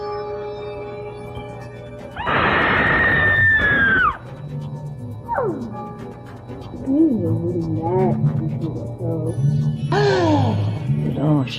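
A woman's sustained, loud scream from a 1950s horror host rises out of a foggy intro, lasting about two seconds, followed by sighs, groans and eerie vocal moans.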